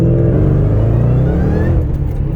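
A 2011 Shelby GT500 convertible with 750+ horsepower accelerates hard in second gear, its engine roaring loud and close with a rising revving whine over deep rumble throughout.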